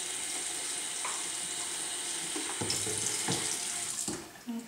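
Warm water runs from a tap into a sink while fingernails are being cared for, a soft continuous splashing stream with a few brief clunks toward the end.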